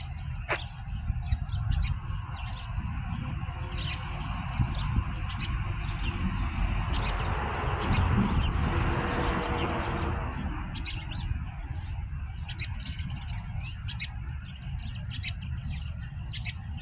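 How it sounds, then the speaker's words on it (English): Bird calling from the ground on a cool, rainy day, with sharp chirps and tweets repeating over steady outdoor rain noise and a brief wash of louder hiss in the middle. "I think I can get this bird on the ground here."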